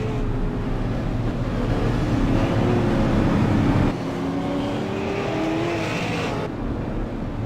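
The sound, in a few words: race cars passing at Lucas Oil Raceway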